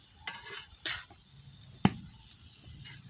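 Small mola fish and vegetable stalks cook in a pan with spices, giving a low sizzle under a few sharp scrapes and clinks of a spatula against the pan.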